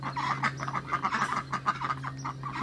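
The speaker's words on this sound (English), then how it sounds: "1, 2, 3, 5 ducks and a chicken." Several ducks and a chicken in a backyard quack and cluck in a busy, continuous chorus close by, with overlapping calls throughout.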